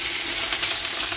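Tomato chutney in a pan giving a bright, dense, continuous sizzle, loud and close, with no voices over it.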